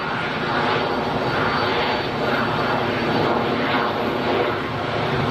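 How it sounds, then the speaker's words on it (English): A Cessna Citation business jet at Geneva Airport produces a sustained, loud engine roar that swells and eases slightly over several seconds. "Cessna Citation."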